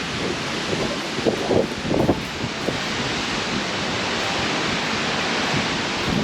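Steady broadband wind rushes across open barrens on a hike at Long Pond, loud and continuous throughout, with a few brief rustling gusts early on and no talking.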